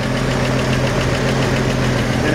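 A 1950 Chevrolet 3100 pickup engine idles steadily nearby, a loud continuous low rumble with a faint rhythmic knock running through it and no talk over it.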